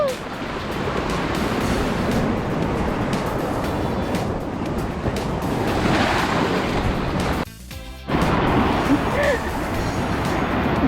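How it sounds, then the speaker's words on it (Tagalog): Strong sea waves break on the shore of Tau Chau Island in the rain, giving a continuous loud surf roar with wind buffeting the microphone and a short dip near the end. "Lakas ang alon niyo."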